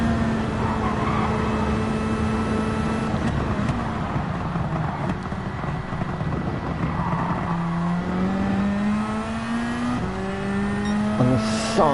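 A race car engine in the video game Gran Turismo 7, driven at Trial Mountain, drones continuously and close, its pitch rising and falling through gear changes over about twelve seconds.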